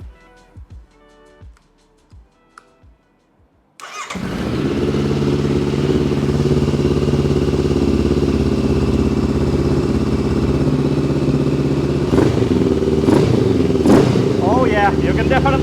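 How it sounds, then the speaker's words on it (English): A Honda NX500 motorcycle with a Stage 1 tune fires up after a few short cranking pulses, then settles into a loud, steady, close-up idle with brief throttle blips near the end; a person talks over the start. "This is the first start, and I'm more than interested in hearing how the bike sounds, especially the intake now."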